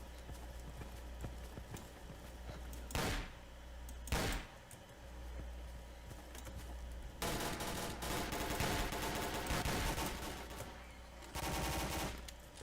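Enemy gunfire in the video game S.T.A.L.K.E.R.: Call of Pripyat, with two sharp single shots followed by dense bursts of rapid automatic fire over a low steady hum, loud and close.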